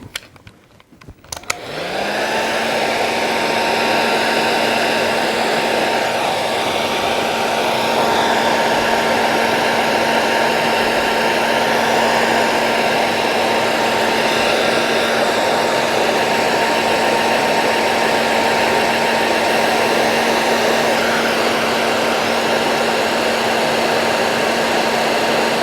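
A dryer blowing over ink artwork, starting up after a brief clatter and then holding a loud, steady whirring hum up close with no break.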